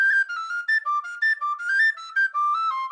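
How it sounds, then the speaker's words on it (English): An Irish tin whistle (wild whistle) plays a lively, bright melody of short, clear notes with quick ornaments, close and alone. "just the raw sound of the wild Irish whistle is very special"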